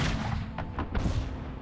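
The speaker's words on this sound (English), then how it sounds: "your artillerymen fire their cannons to send precisely gauged vibrations throughout your ship" Ship cannons firing in Anno 1800, a quick series of three or four muffled booming shots under a dense low rumble.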